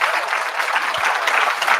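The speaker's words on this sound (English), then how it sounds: "let's give another round of applause for Dr." Brief, steady applause from an audience at a longevity summit for Dr. Ricky, close and continuous.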